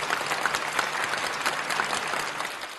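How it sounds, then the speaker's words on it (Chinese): Studio audience on a television program claps steadily for a boy, a fairly dense round of applause with faint voice fragments, tapering slightly toward the end. "大家为我们的孩子鼓掌好吗"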